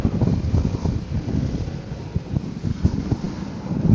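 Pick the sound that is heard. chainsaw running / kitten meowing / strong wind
strong wind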